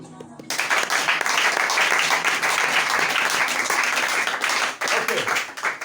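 A church congregation breaks into sustained, dense applause that fills the room, starting abruptly and holding steady for several seconds before briefly dipping.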